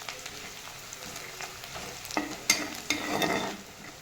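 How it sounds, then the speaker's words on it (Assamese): Onions sizzling in hot oil in a pan as they fry toward golden brown, with steady crackle and a few sharp stirring scrapes and louder bursts of sizzle near the end. "এইখিনি পিঁয়াজখিনি ভালকৈ সোণালী ৰং হোৱাকৈ ভাজি ল'ব লাগিব।"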